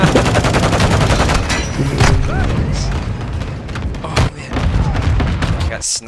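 In Warzone 2.0, sniper fire and other battlefield gunshots crack and boom in rapid, overlapping bursts, with heavy thuds and continuous combat noise. A tank is part of the fight.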